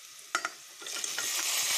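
Onion, star gooseberry and curry leaves stirred in a frying pan, a steady sizzle rising under two sharp spoon scrapes near the start and continuing scraping strokes, close and fairly loud.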